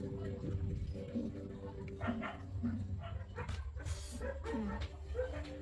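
Dogs bark and yip intermittently in the background over a steady low hum, with some faint talking nearby.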